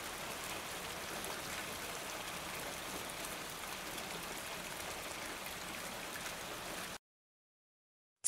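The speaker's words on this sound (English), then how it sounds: "Rain. Sound of water falling from the sky." Steady, faint rainfall hisses evenly for about seven seconds, then cuts to silence.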